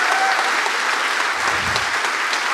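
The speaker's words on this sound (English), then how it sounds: "So give them a big round of applause, because this is history in the making." Audience applause at a political magazine's relaunch event, a dense sustained wash of many hands clapping close and loud throughout, with no speech over it.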